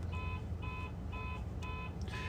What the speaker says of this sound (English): He looks to be struggling turning off the car alarm.